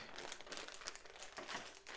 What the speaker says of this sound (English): open up the printed parts bag